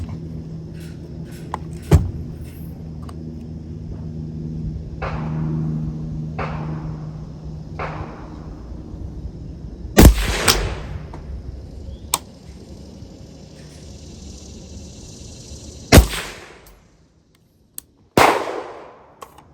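A 5.56 rifle fitted with an Energetic Armament Ferox 556 suppressor fires several sharp, loud, widely spaced shots outdoors, each with a brief mechanical clack and a short echo, and quieter clicks and handling noise in between.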